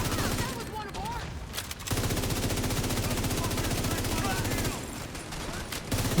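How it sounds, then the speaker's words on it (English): A video-game minigun fires in long, rapid, continuous streams of shots, loud and close, with scattered voices talking beneath the din. "Minigun power restored."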